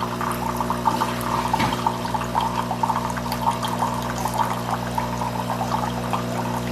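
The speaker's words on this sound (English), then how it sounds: "this thing, when you're doing rinsing or different procedures, it's going to expel water" A coffee machine expels rinse water into a drip cup, a steady close pour-and-splash with a constant machine hum underneath and no talking.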